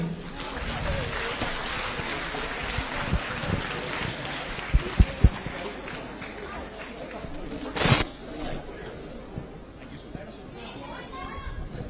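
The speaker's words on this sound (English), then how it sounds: "through your applause, I'm not able to hear anything" An audience at an annual event in a convention hall in Hyderabad applauds in a continuous wash of clapping and crowd chatter, with voices talking over it and a few sharp knocks.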